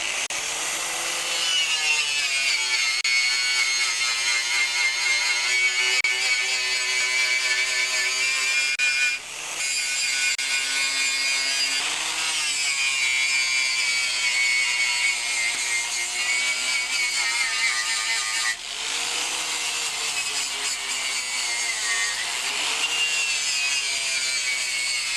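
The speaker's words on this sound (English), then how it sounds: "I'm just going to run my angle grinder with the wire brush and clean her off." An angle grinder with a wire brush scours flaking paint and rust off the deck of a John Deere 316 tractor. It makes a steady, loud, high whine that runs on alone, with brief dips as the brush shifts.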